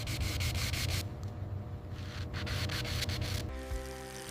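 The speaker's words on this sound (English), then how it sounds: "The dried base coat on the handle edge is sanded perfectly smooth." Sanding of the dried base-coated edge of a leather handle strip, with rapid rhythmic strokes of dry, scratchy rubbing close up, pausing briefly midway before resuming, with a faint mechanical hum at the end.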